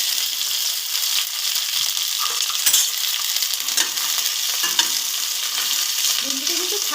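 Okra frying in hot oil in a wok, a steady loud sizzle with occasional light metallic clinks of a utensil stirring.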